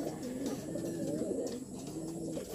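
Racing pigeons coo in their loft, soft repeated throaty coos layered over one another at close range against a quiet background.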